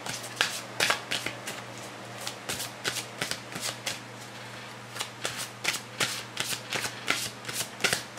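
Tarot cards shuffled close up, a rapid series of crisp riffling flicks and slaps repeating steadily throughout, with a faint low hum underneath.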